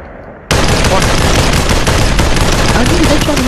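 Rapid automatic gunfire in the VR battle royale game Population One starts abruptly after a brief quiet moment and continues loud and close as a dense, unbroken burst.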